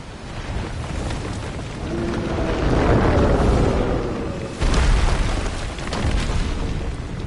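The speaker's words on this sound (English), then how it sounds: "it is so satisfying to just sit here and blow up a giant mountain rock thing with just so many explosions" Repeated explosions blasting a giant mountain rock in Kingdom Hearts 3, heard as loud, rolling booms that swell and rumble continuously, with a sharp new burst partway through.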